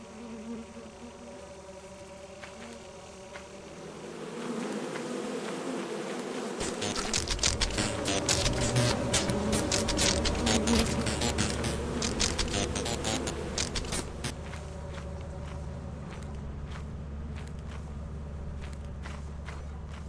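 Buzzing insects swarming around beehives in a video game, a dense droning hum that swells loud in the middle and then settles, with rapid ticking and tapping sounds layered over it.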